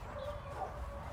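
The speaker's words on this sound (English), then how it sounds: "Those people's doggies are barking." Dogs bark faintly in the distance, soft yips and bow-wows over steady outdoor background noise.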